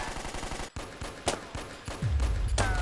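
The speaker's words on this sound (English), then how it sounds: "a sudden burst of gunfire echoed down the corridor Snake was about to enter" A burst of gunfire in an audio drama echoes down a corridor: rapid sharp shots in quick succession, loud and close, followed by heavier rumbling impacts.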